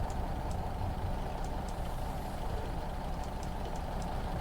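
A Scania OmniDekka double-decker bus engine idles in the OMSI 2 bus simulator, a steady low diesel rumble that holds constant throughout with no speech.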